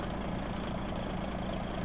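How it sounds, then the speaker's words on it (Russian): A DAF 95XF truck engine with the Kriechbaum sound in Euro Truck Simulator 2 idles in a steady, low, even drone, fairly quiet and unchanging throughout. "Именно звук двигателя от Кришбаума."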